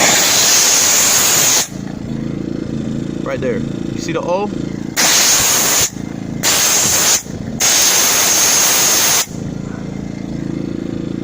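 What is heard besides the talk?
steam cleaner hissing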